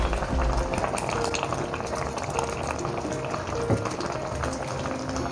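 Raw coconut oil poured over a seer fish head curry simmering in a pan, a steady bubbling and sizzling hiss that stays loud and close throughout.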